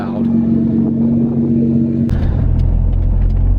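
A loud Nissan GT-R engine rumbles steadily at close range, the tone shifting deeper partway through as the rumble thickens.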